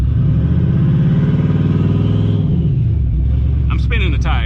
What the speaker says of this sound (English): I'm spinning the tires